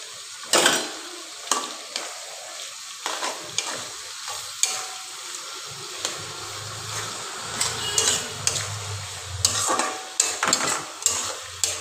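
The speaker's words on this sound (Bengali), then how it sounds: "পেঁয়াজ কুচিগুলো ভেজে নেব" Chopped onions frying in hot oil for a chicken curry, a steady broadband sizzle with repeated scraping stir strokes of a spatula against the pan, close and continuous, with no talking.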